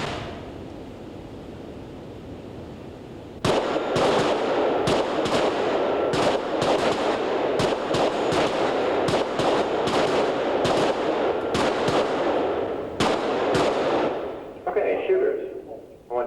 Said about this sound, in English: I want you to draw and fire 6 rounds